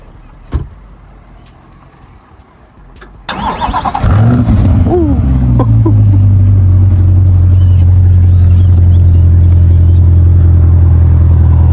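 A Chevrolet C8 Corvette with a 6.2-liter naturally aspirated V8 cranks to life after a quiet moment, flaring with a loud rev before settling into a deep, steady idle rumble close by.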